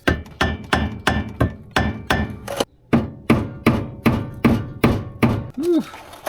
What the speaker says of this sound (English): Let me go get a hammer.